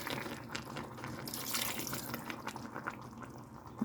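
Knorr bouillon broth is poured into a cooking pot, a faint continuous liquid stream with soft splashing that runs quietly for several seconds.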